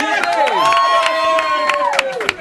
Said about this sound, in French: qu'on applaudit bien fort